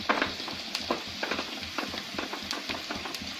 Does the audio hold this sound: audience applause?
no